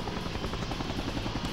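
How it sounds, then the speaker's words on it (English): A helicopter fitted with buzzsaws in the N64 game The World Is Not Enough gives off a steady, dense rotor drone with rapid chopping pulses, loud and continuous throughout. "Frickin' helicopters and their frickin' buzzsaws just cut a hole in the damn shack I'm in."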